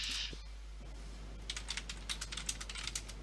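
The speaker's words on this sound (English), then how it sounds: "We can hear you typing" Rapid typing on a computer keyboard, with quick irregular clusters of key clicks over a steady low hum, faint and fairly close.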